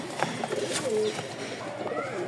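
Soft cooing of a male Lakka (Indian fantail) pigeon, a few low murmuring notes close by over light background noise, with a faint voice in the background.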